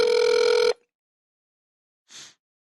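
An outgoing telephone call rings: one electronic ring tone sounds and cuts off, then a quieter, shorter burst follows after a silent gap.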